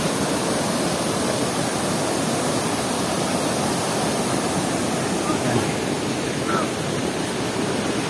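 Strong river current at Anton Falls, a dense, steady roar of rushing water that fills the whole clip, loud and close with no pauses.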